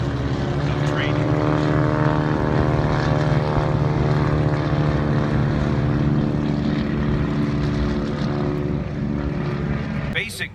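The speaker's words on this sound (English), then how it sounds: "It's this kind of formation flying that was taught during the primary phase" At a 75th anniversary D-Day event, propeller aircraft fly in formation, making a loud, steady, droning engine hum that holds for the whole stretch while a commentator speaks over it.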